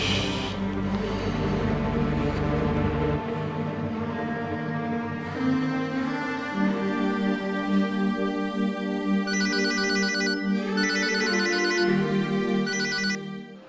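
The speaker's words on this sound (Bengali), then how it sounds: "মার একটা ফোন দিই" A mobile phone ringtone plays as a call to a mother is placed, a bright electronic melody with repeating tonal phrases, clear and fairly loud, running for several seconds with no talk over it.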